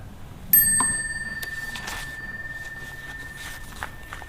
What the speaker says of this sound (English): when we hear the sound of the small bell, we'll bow